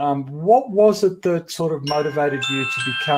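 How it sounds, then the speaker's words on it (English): An alarm rings with sustained bright tones in the second half, layered over a voice as he keeps talking. "that's my alarm."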